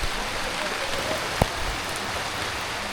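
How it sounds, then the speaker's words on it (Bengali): Steady rain in the hills of Bandarban patters softly and evenly, with a brief sharp knock partway through. "পাহাড়ে বৃষ্টি দেখতে খুবই ভালো লাগে"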